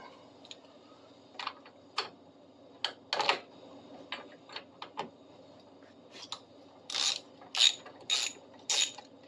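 A ratchet with a long socket turns a 10 mm bolt while changing the back tire on an e-bike, giving bursts of quick mechanical clicks in short runs that grow louder and denser toward the end, with no talking.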